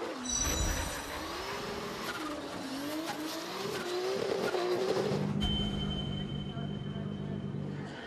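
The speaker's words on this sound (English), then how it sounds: "He delivered some deep drift angles and sharp rear swings in his 850 brake horsepower Nissan 180 SX." An 850 hp Nissan 180SX drift car at the 2017 FIA Intercontinental Drifting Cup, its engine climbing and wavering in pitch with tire noise. It sounds moderately distant, and a commentator talks over it.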